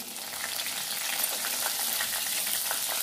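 Curry leaves dropped into hot oil over a medium flame in a home kitchen pan, a dense, continuous crackling sizzle holding steady and close throughout, with no talking.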